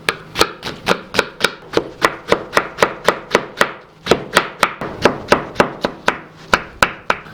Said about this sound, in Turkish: Bu sırada harcımızın içerisine 3 tane soğan doğrayacağım.